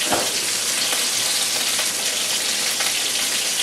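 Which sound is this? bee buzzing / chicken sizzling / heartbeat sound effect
chicken sizzling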